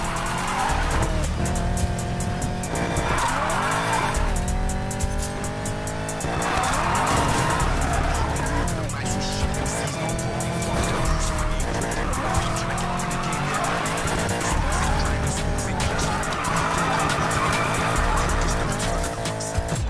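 Car drifting in the Need for Speed Payback racing game, with steady engine roar and long, wavering tire squeals running continuously at loud level throughout, with no talking.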